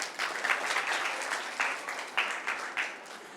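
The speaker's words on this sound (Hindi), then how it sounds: "आप तालियां बजा सकते हैं।" Audience applause fills a Buddhist vihara in Rajnandgaon during a quiz-style talk, a dense, steady patter of many hands with a few louder swells, close and alone without speech.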